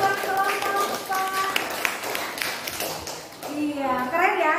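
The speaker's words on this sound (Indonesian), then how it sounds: "Beri tepuk tangan buat kelompok." Students in a classroom clap for a presenting group, scattered hand claps mixed with children's voices and chatter, with a voice rising near the end.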